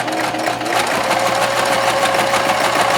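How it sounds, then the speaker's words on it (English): Close, loud sewing machine stitching a quilted mug rug, running continuously at a fast steady rhythm from start to finish with no voices. "So I'm just gonna pick it up every time and get it sewing."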